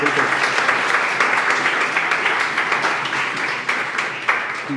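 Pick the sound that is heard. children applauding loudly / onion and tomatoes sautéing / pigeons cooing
children applauding loudly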